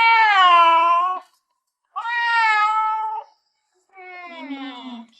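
A stray cat meows three times, long drawn-out plaintive calls close up, separated by short silences.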